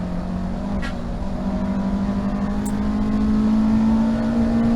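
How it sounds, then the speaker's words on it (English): A race car at Thruxton accelerating hard in an onboard view, its engine droning loud and steady as it rises in pitch, then shifting from fourth into fifth gear. "Accelerate up to Noble. 4th gear into 5th."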